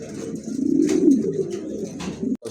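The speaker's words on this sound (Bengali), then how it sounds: "চমৎকার একটা কবুতর" A pigeon cooing close by, one soft rolling coo swelling and fading over a couple of seconds with faint background noise.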